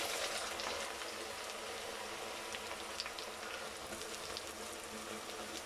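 Chopped onions frying in hot coconut oil in a pan, a steady broadband sizzle and crackle with faint pops, continuous and close throughout with no talk.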